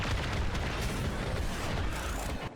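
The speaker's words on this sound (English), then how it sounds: "Those explosions?" Explosions in the sci-fi video game Warframe rumble and boom in a dense, continuous cluster of deep blasts, loud and overlapping, fading at the end.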